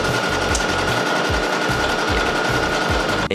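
An embroidery machine stitches a corset piece in a loud, rapid mechanical chatter, its needle thumping in a fast, steady rhythm close by throughout, with no talking.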